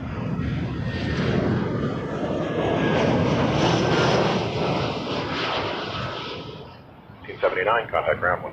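An Air Canada A320-200 airliner arriving at Toronto Pearson, a loud, steady engine roar swelling and fading over several seconds as it passes close by, with a voice talking over it near the end.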